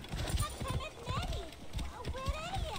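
Horse hooves clip-clopping at a quick gait in the video game Assassin's Creed Origins, a rapid, regular run of thuds under game sounds and a voice speaking.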